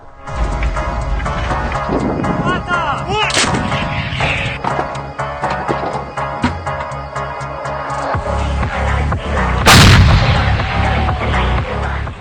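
Heavy artillery booms and blasts sound repeatedly in combat amid clanking metal and mechanical noise, with one especially loud, close shot near the end.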